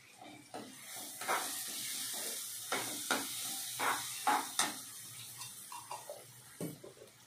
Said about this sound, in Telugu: కొంచెం వేగాలండి